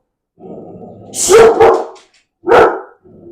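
A dog barks in two loud, close bursts, with a low background hum before and after.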